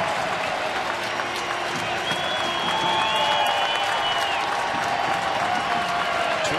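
Baseball crowd at an Oakland ballpark rising to its feet and applauding in a steady, loud wash of clapping and cheering with a 2-2 count, sustained throughout without a break.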